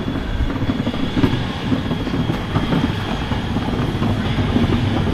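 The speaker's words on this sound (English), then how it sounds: "I found a roller coaster." Roller coaster train rumbling along its track at a Copenhagen amusement park, a steady loud roar with clattering wheels and faint squeals, continuous throughout.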